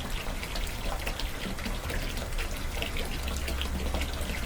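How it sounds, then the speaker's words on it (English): Water from a new pump recirculating through a hot tub, a steady close splashing and trickling flow that runs evenly throughout without pause, with no talking. "Takes a little bit to prime it, but then it starts flowing."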